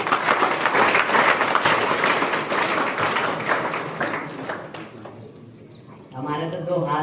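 Audience of army and NCC cadets applauding at an outdoor wildlife and environment talk, a loud sustained burst of many hands clapping that fades out, then a voice starts speaking.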